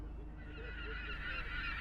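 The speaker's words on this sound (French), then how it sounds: "renforcé par des cris de mouettes" Seagulls cry over a fishing quay in Ostend where fish is unloaded, with several short honking calls carried over a steady wash of harbour and sea-air noise, moderately distant.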